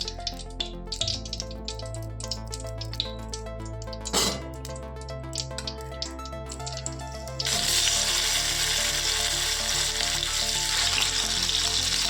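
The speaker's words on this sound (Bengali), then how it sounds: "ঘিয়ের মধ্যে পুরো গাজরটা ভাজতে হবে।" Grated carrots frying in ghee for gajar halwa give a steady sizzle throughout. The sizzle turns louder and brighter partway through, with a brief clatter of a utensil against the pan.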